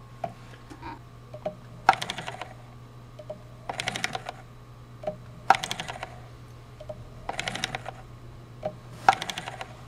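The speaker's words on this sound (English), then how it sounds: "that little tablet is controlling the stepper motor" A stepper motor, driven from a tablet running LabVIEW software, turns a switch knob in a test rig, giving five short whirring bursts at regular intervals, each ending in a sharp click, over a steady low hum.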